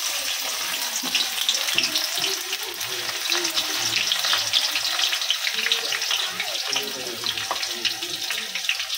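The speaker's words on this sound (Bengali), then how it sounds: "প্রথমে পেঁয়াজ কিছুটা বেরেস্তা করে নেব।" Onions frying in oil to make beresta for a home-cooked Eid meal give a steady, close, dense hiss and crackle of sizzling that runs without a break throughout.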